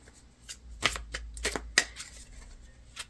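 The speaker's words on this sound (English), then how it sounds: "as I'm shuffling out your cards" Tarot cards are shuffled by hand in a quiet room, a series of quick riffling bursts and soft slaps at an uneven rhythm, close and fairly faint, with no talking.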